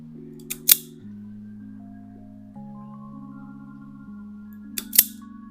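Wire cutters snip electrical wire while turn-signal lights are wired on an Italika FT110 motorcycle: two sharp, crisp cuts several seconds apart over soft background music.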